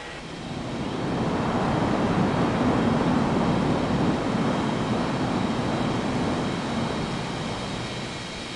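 Airliner engines in the Unmatched Air Traffic Control game, a B737 or A320 taxiing, give a steady broadband jet roar that swells in within the first second and holds loud and continuous, fading only slightly at the end.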